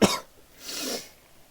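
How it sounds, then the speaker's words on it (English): One sharp, close cough bursts out at the start, followed by a softer breathy exhale, with no talking around it. "I'm going to cough again."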